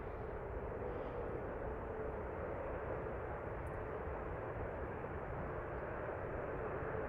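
A Sun Country airliner arrives at an airport and passes in the distance as a faint, steady broadband jet roar with no voices.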